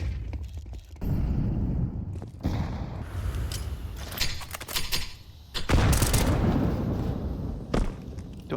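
Rainbow Six Siege match audio with muffled grenade thuds and bursts of gunfire, several heavy booms spaced out over sustained rumbling, one louder blast near the middle.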